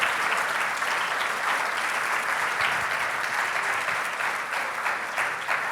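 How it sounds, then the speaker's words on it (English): Large audience at the 2019 TEA Summit applauding the East Coast division boards, a dense, steady wash of many hands clapping throughout, loud and sustained with no gaps. "please stand and let us applaud you"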